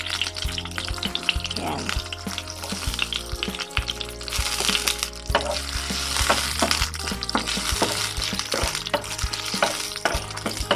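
Garlic sizzling and frying in hot oil for a talbos ng kamote dish, a continuous crackling hiss with stirring clatter throughout, loud and close, with a single short spoken word.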